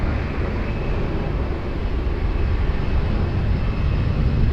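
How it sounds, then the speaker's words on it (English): An Airbus A320 lining up for departure on runway 20 at Lisbon Airport gives a steady, even jet roar heard from a distance, loud and unbroken throughout with no voices. "Airbus 320, lining up for departure runway 20"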